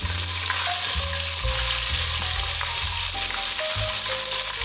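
Onions fry in a pan with a little added water, a loud continuous sizzle with bursts of bubbling and stirring scrapes, close and without talk.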